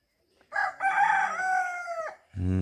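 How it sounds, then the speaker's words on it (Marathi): A rooster crows once nearby in a rural Konkan village among banana trees, a long loud drawn-out call, followed by the start of another bird call right after. "तिकडे कोंबडी ओरडत आहेत"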